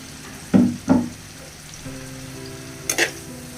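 Tomatoes drop into a hot frying pan of shrimp and bottle gourd curry, giving two sharp sizzling bursts followed by a quieter steady fry and another brief crackle near the end.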